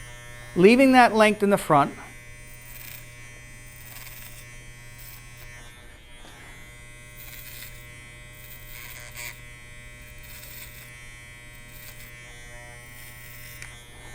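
Electric hair clippers buzz steadily through a clipper-over-comb haircut, a close continuous hum running under the whole stretch after a brief spoken phrase at the start.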